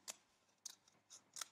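Scissors cut paper along a collage window frame, four crisp snips spaced irregularly, close and quiet with no talking.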